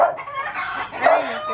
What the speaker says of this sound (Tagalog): Pati manok, nag-ingay na din.